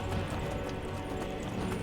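Horse hooves clip-clop steadily in Skyrim, the mount injured, with a continuous close rhythm of hoof falls and no voices.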